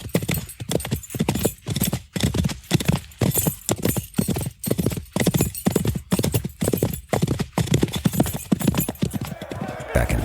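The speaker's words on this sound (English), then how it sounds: "He moved quickly, mounting his horse and riding off to get word to his superiors." A horse's hooves clip-clop in a steady, fast, loud rhythm as the rider mounts and gallops off, with a brief whinny, all under narration.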